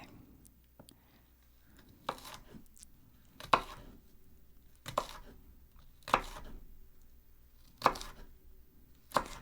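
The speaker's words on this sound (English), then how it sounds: "kind of cut this into narrow little wedges here. And then cut it this way." A knife slices a hot pepper into narrow wedges on a cutting board, six or seven crisp, separate chops spaced about a second apart, close and quiet against a near-silent background.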